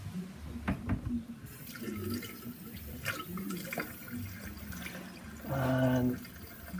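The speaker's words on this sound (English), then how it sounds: "Okay, so we turn on our water." A water tap is turned on in a chemistry lab, giving a soft running and splashing flow into a sink after some faint handling clatter, fairly quiet throughout.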